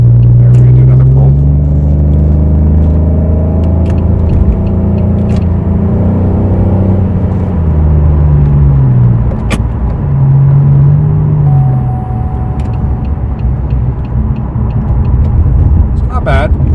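A Pontiac Grand Prix (2004–2008) fitted with a new Dynomax exhaust revs through a pull, its loud deep engine note rising and falling before settling toward a low rumble.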